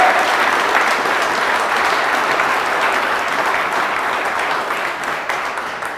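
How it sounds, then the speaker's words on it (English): Loud, sustained applause from an audience at a live startup pitch event, a dense continuous roar of many hands clapping that holds steady and eases slightly toward the end. "Can I have another round of applause?"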